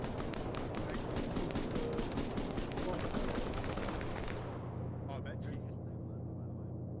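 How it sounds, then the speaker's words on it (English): Heavy machine gunner firing in Arma 3, rapid repeated gunshot bursts loud for several seconds then abruptly stopping, leaving a low hum with scattered distant shots, voices talking over it. "now you got Devil getting engaged by the heavy gunner up here"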